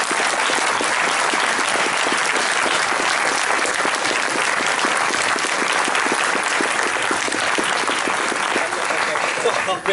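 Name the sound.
audience applause for Jean-Louis Le Breton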